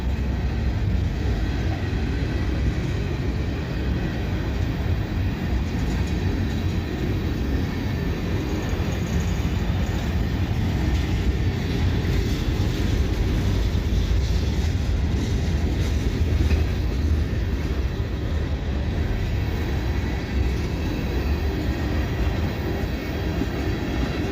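A long freight train drawn by a single locomotive rolls steadily past nearby, a continuous loud low rumble with faint wheel clatter running throughout, no voices.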